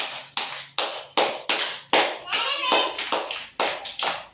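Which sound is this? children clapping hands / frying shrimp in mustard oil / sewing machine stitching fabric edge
children clapping hands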